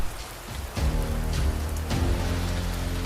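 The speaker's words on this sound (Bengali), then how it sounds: "ঝমঝম করে বৃষ্টি পড়ছে" Heavy rain pours down steadily, a dense hiss of drops striking surfaces that grows fuller after the first moments.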